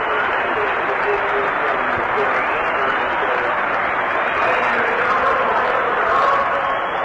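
A large Cubs baseball crowd gives a sustained ovation, a broad, steady roar of applause and cheering heard from a distance, with a voice talking over it.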